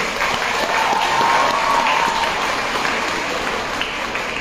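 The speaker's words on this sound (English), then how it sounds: "So a big clap to the people from Bangalore." Sustained applause from a large audience honoring people from Bangalore, a dense, even roar of clapping that stays steady and loud throughout without pause.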